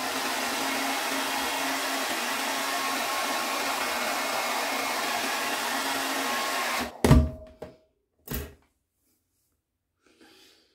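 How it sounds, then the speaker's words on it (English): A blow dryer runs loudly and steadily on a beard during a trim cleanup, then cuts off, followed by two dull handling thumps and near silence. "I'm going to comb through one more time with the blow dryer."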